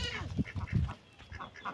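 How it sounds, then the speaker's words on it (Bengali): A flock of village ducks quacks in short, overlapping bursts, fairly close and lively, with no talk over the calls. "হাঁসের ফাল, গ্রামের হাঁসের ফাল"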